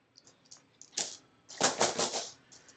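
Cards for the Stuffed Fables board game are shuffled in a quick riffle, a couple of crisp flurries of clicking close by, short and fairly quiet with no talk.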